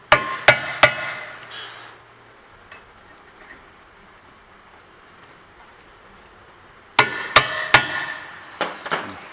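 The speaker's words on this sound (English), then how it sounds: "And hit them and twist while you're hitting this." A manual impact driver is struck with a hammer on brake screws during a Honda rear brake pad replacement: three sharp metallic blows, then a quiet stretch and a further burst of five or six hits.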